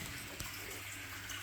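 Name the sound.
water dispensing from a refrigerator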